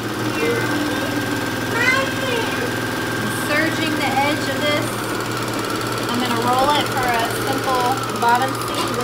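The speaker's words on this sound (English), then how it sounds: "The amazing Juki HZL F600. It's our favorite machine." A Juki HZL-F600 sewing machine runs with a steady, rapid mechanical chatter and hum that lasts the whole stretch, while a person talks over it.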